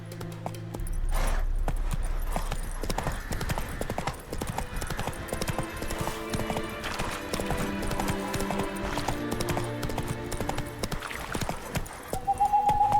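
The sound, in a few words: horse galloping in video game The Witcher 3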